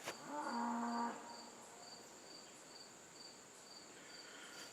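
A cow on a homestead gives one short low moo near the start, heard faintly over a steady chorus of chirping crickets that continues alone afterward.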